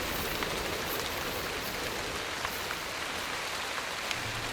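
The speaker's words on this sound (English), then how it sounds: "Oh, it was rain that I heard." Steady rain falling outdoors in the wild, a dense even patter with scattered close drops and no talking.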